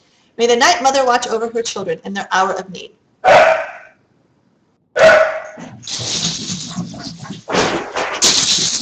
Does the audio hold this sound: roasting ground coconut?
no